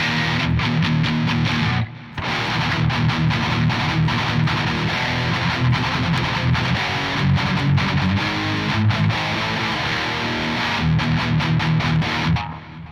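A heavily distorted metal electric guitar through the Toneforge Jeff Loomis plugin chugs and rings out loud and dense, playing continuously with one brief drop near the start.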